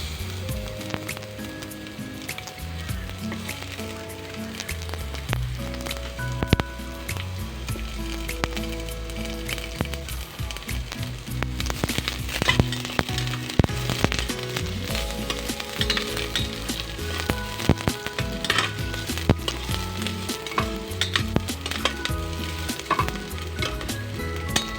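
Onion frying in hot oil in a pan for a Filipino dish, a steady close sizzle with crackling bursts and occasional stirring and utensil clinks, no voices.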